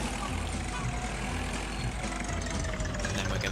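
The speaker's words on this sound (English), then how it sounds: "Now that we've got it there, let's get in our tractor." A tractor engine idles steadily in the Agricultural Simulator Historical video game, a low continuous rumble that holds throughout at moderate, even loudness with no speech over it.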